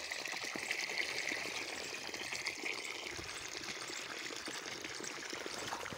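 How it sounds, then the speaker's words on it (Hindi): Water from a motor-driven pump pipe pours steadily into a dry vegetable garden, a continuous soft gushing and trickling stream heard close and alone at low level. "ये पानी आ रहा"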